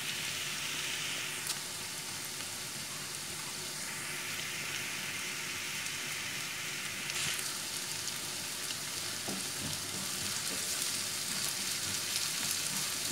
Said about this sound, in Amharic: ያው በዚህ መልኩ ያው ሽንኩርቱና ነጭ ሽንኩርቱ እየተጠበሰ ነው ማለት ነው።